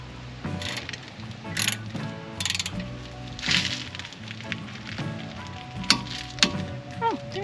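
A wrench fitted with a 7mm Allen bit torques a front brake caliper bolt on a Ford Escape to 24 foot-pounds, giving short runs of close mechanical ratcheting clicks with a few sharper metallic snaps.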